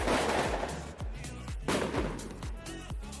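A tabletop fantasy game's firework sound effect erupts in a rapid series of sharp, booming cracks, loud and close, with crackling bursts between them and no talk over it.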